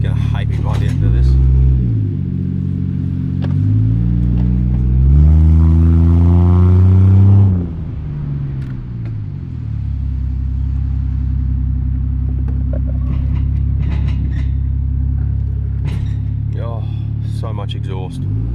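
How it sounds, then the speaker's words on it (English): Slammed Toyota Chaser JZX100 exhaust rumbling deeply while driving, with a rising rev through the gears and then a steady low drone heard from inside the car. "So much exhaust."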